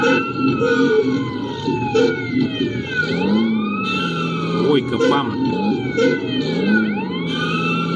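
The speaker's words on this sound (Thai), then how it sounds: "จราจนติดขัดขอเปิดไซเรนให้รถหลบหน่อยนะครับ" A fire truck siren wails in the video game GTA San Andreas, its rising and falling sweeps repeating loudly over a vehicle engine. A man exclaims in the middle.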